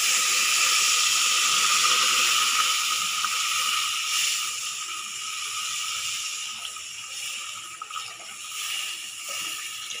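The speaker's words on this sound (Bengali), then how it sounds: "এবার আমি একটু জল দিয়ে দেবো।" Water poured into a hot pot while cooking a Sunday special dish hisses and steams continuously, a loud, steady sizzle that fades slightly and fluctuates throughout, with no talking.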